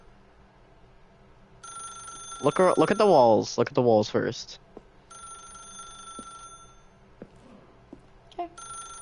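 Telephone ringing in The Stanley Parable game, a steady electronic ring that sounds in bursts before and after a voice speaks over the middle of the clip.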